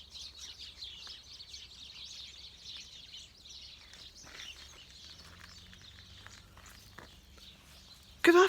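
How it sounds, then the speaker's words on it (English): Birdsong in the West of Ireland, a busy chorus of high chirps and trills, fairly faint and outdoors, fading slightly toward the end before a sudden brief louder knock or rustle at the close. "But isn't this bird song incredible?"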